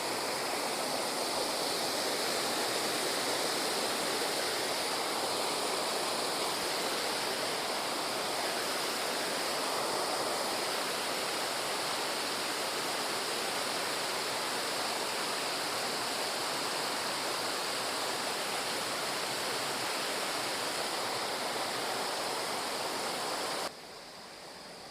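Water pours down at Aare falls in a steady, broadband rushing roar that holds constant, fairly loud, with no voices over it.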